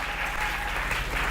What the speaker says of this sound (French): Applaudissez très fort pour le Seigneur Jésus.